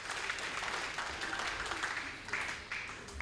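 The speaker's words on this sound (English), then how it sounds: "So round of applause for my team." Audience applause at a national school debate grand final, a steady patter of clapping filling the hall for a few seconds with a faint voice underneath.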